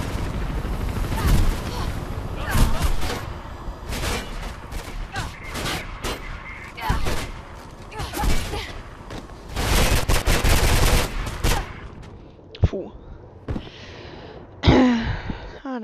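Video game gunfire from Mirror's Edge fires in repeated sharp bursts and rapid volleys, loud and close, with gaps between them, then short grunts and gasps near the end.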